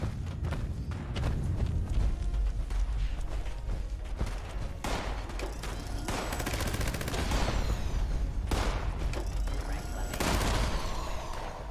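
Rapid bursts of video game gunfire, many bullets fired in quick volleys with sharp transients, mixed with footsteps and running over a constant low rumble, loud and continuous throughout.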